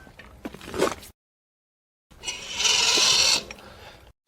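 A cheap gate opener motor drives a gate closed with a steady whirring, grinding mechanical run of about a second after a short burst of clicking, heard alone and fairly close.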